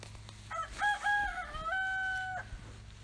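A rooster crows once, long and drawn out, near a chicken pen outdoors, with a few clucks and shuffles around it, moderately close and without talk.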